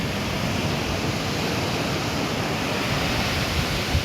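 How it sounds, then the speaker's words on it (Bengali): The evening sea roars in a steady, dense wash of breaking waves, loud and unbroken throughout with no voices. "সমুদ্রের গর্জনটা কি"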